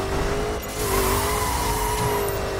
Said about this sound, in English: they did do kind of a recycled V8 engine sound in this thing from the ZR1